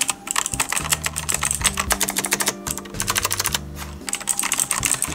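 Rapid, close-up clacking from fingers typing on a mechanical computer keyboard, with dense bursts of keystrokes separated by brief pauses.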